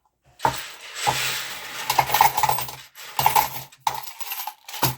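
Coins clink and rattle as they drop into a paper cash budget envelope, several bursts of close metallic jingling with brief pauses between handfuls, no speech.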